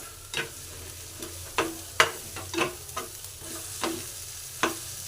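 Steady sizzling of egg bhurji (scrambled eggs) frying in a pan, punctuated by several sharp scraping stirs at irregular intervals; no voices.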